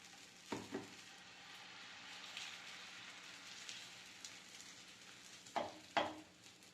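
Adai dosa batter sizzles faintly on an oiled pan, a soft steady hiss broken by a few sharp clatters and taps near the start and end.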